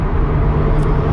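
A Toyota Supra MKIV cruising steadily in fifth gear, with a loud, constant low engine drone and road roar filling the cabin, no talking.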